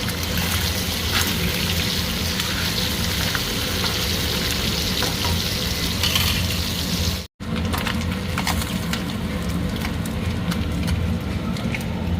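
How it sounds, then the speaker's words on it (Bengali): Large tangra fish frying in hot oil, a dense, continuous crackling sizzle heard close up, with a brief cut partway through before the frying noise resumes just as strongly. "চলুন মাছগুলো ভেজে নিই।"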